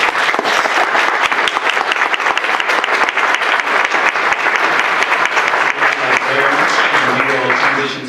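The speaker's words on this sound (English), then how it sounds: "If we could all give them a round of applause." Audience clapping for a panel discussion, dense sustained applause throughout, fading slightly at the end as a voice begins.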